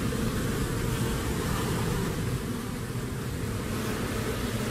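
A honeybee swarm being transferred into a hive box, a dense, loud, continuous buzzing from many bees close by with no break.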